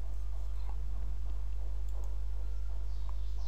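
A computer mouse gives a few light, scattered clicks under a strong steady low hum and background noise, with nobody speaking.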